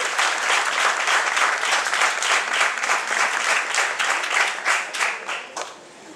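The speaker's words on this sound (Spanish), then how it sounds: "Un aplauso también para ellos." A crowd at a San Roque festival event in Telde claps steadily, a full burst of applause that holds for several seconds and then fades out at the end.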